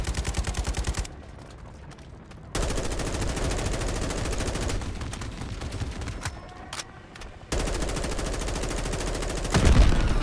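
Dense automatic gunfire and rapid shots from the Modern Warfare 3 campaign mission "Reactor", loud and sustained in long bursts with brief quieter gaps and a heavy blast near the end, no voices.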